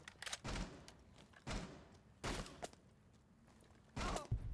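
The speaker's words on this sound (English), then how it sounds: "Oh, my controller just keeps shooting." Bursts of video game gunfire from a controller that keeps shooting, four loud separate volleys with quieter gaps between them and no talk over them.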